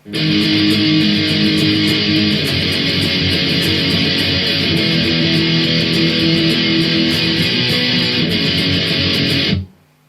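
An electric guitar strums the bridge C pattern of a song, with dense, driving chords repeated evenly for about nine seconds, loud and close, with no voice.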